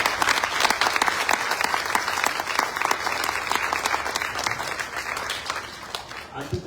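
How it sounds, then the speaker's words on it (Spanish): Warm, dense audience applause for the Chilean ambassador at a panel discussion in Mexico, sustained clapping that carries on steadily before tapering at the end. "Un aplauso, por favor."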